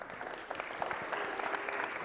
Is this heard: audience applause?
yes